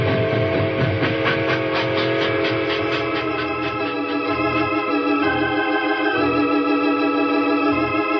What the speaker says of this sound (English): A locomotive can outrun a horse any day.